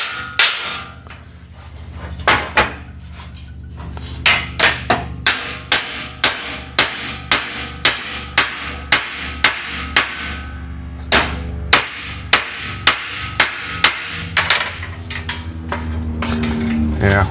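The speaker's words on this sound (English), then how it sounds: "try to hammer that one out" A hammer strikes the dented sheet metal of a Rampside rear grill in a steady series of sharp, ringing metallic blows, close and loud, with a few brief pauses between runs and no talking.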